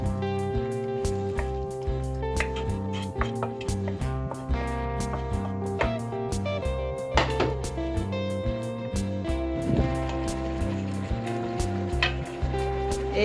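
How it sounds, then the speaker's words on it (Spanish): Sofrito sizzles in a pressure cooker on the stove, a steady frying hiss close by, with frequent sharp clinks and taps of utensils against the pot throughout. "pondremos la olla rápida al fuego y vamos a agregarle todo el sofrito."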